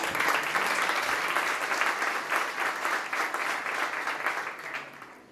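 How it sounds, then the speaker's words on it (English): An audience at the South Summit 2017 travel and tourism startup competition gives loud, dense applause that holds steady for several seconds before tapering slightly, with no talk over it. "Big applause, please"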